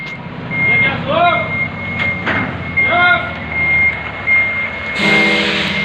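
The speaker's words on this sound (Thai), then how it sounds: "การถอยรถครับ รถ18 ล้อ 22 ล้อครับ" An 18- or 22-wheel truck backs up, sounding a steady, evenly spaced reversing beep over a loud, close engine rumble, with a brief burst of air or exhaust noise near the end and some faint voices.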